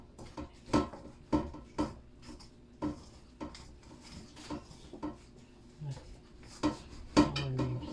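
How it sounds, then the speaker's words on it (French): A spoon clacks and scrapes against a bowl while flour and water are stirred into a dough for red bean dombré, with repeated knocks and rubbing strokes, close and moderately loud. "On remue très bien, on remue. Jusqu'à ce que ça nous donne une pâte."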